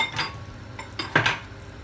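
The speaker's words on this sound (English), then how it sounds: "The next thing we do is put in our chickpeas." Chickpeas tumble into a tagine pot for a Moroccan chicken tagine with dates and almonds, making a few quick, close clinks and rattles against the vessel in a short, irregular burst.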